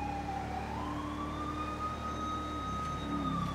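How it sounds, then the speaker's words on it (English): A tow truck's siren in a GTA roleplay game wails steadily at moderate distance, a faint rising-and-falling electronic tone over low engine rumble with no talking. "Is that siren on the back of the fucking tow truck?"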